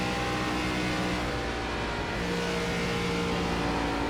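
An ARCA stock car in the iRacing simulator drives steadily at speed, its engine a constant, dense drone with layered harmonics and no breaks across the run.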